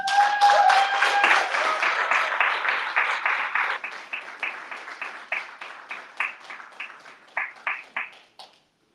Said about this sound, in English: Another round of applause for Mustafa